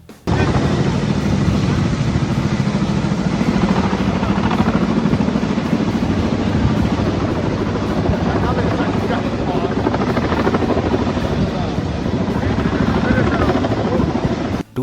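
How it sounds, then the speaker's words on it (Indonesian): Firefighting helicopters arrive over a burning oil refinery in Moscow, a loud, steady rotor and engine roar filling the whole stretch without letup, with voices talking beneath it. "Helikopter pemadam kebakaran mulai berdatangan."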